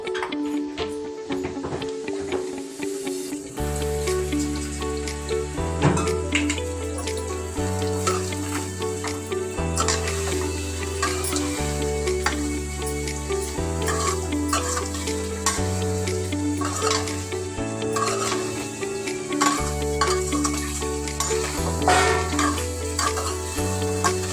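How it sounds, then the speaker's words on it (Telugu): Sliced bitter gourd (kakarakaya) fries and is stirred in hot oil in a pan, a steady sizzle with occasional scraping stirs, sitting beneath louder background music throughout. "నూనె కాగిన తర్వాత నూనెలో వేసుకోవడం"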